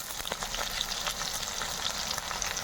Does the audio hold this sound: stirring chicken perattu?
yes